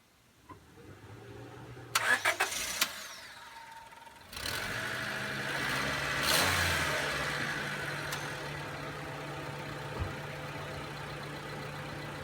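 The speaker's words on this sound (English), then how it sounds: "So now we're going to start her up and show you what the engine sounds like" A 2000 Honda Civic LX engine cranks with a few sharp bursts, then catches and settles into a steady, loud idle with a brief rev midway.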